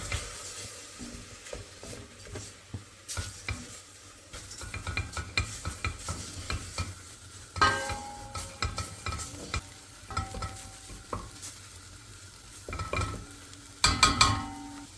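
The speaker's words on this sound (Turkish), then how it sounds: "Üzerine 2 yemek kaşığı un ilave ediyoruz. 2-2 dakika kadar kavuruyoruz." Mushrooms and flour are sautéed in a pot for a creamy mushroom soup: close, uneven scraping stirs and clinks over a faint, soft sizzle, with no talking.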